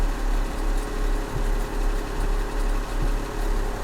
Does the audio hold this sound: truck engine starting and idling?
yes